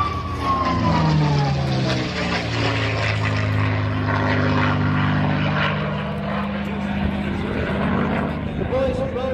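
A Mustang fighter with a Rolls-Royce engine flying at an airshow, a loud sustained propeller drone whose pitch bends as it passes, heard under an announcer's steady commentary.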